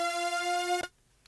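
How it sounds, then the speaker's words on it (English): Synthesized siren tone from the Vital synthesizer, a bright buzzy harmonic-rich note held steadily and loudly before cutting off abruptly, followed by near silence and a faint blip. "we just have this siren effect from Vital, which plays in the intro"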